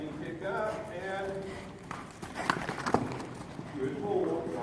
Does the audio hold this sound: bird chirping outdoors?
no